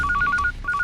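A telephone rings with a rapid warbling trill, two quick bursts of electronic ringing, close and clear.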